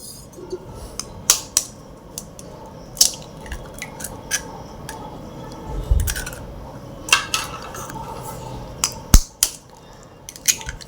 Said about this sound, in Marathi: अंडे आधी छान असे फेटून घ्यायचे चमच्याने